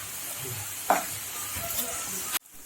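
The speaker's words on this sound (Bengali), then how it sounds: "ভালো করে মশলাটা কষিয়ে নেব" Spice paste of turmeric, chili, Kashmiri chili and cumin powders sizzles steadily in hot oil in a pan, with a brief scrape of stirring partway through and an abrupt cutoff near the end.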